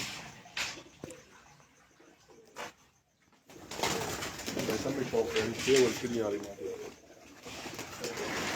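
Badshah-breed pigeons coo softly on a rooftop in Punjab, then a louder, steadier stretch of cooing and bird noise runs through to the end, with a few brief clatters early on.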